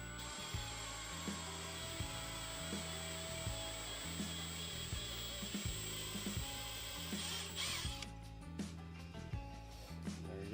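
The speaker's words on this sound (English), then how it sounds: "What you're gonna want to use is a 7/16 drill bit. Drill it out a little bit." 7/16 drill bit with greased tip boring out a tab on an aluminum coolant overflow tank for a Ford: a quiet, steady high whine from the drill with repeated rhythmic grinding pulses, stopping near the end.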